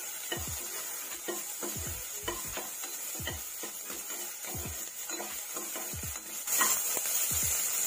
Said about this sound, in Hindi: अब हम इसमें जो बारीक कटा प्याज डाल देंगे, इसको हम गोल्डन कलर आने तक